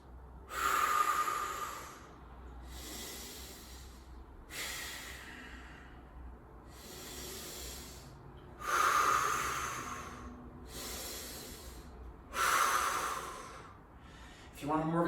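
Deep, slow breaths come during a held leg-raise core exercise with the legs just off the ground: six loud, hissy breath bursts at a steady, unhurried rhythm, close to the mic.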